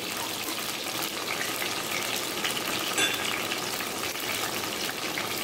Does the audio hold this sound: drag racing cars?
no